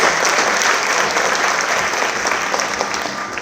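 An audience at a student award ceremony applauds a scholarship recipient with full, continuous clapping from many hands that holds steady at a loud level and eases slightly toward the end.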